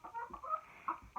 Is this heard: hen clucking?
yes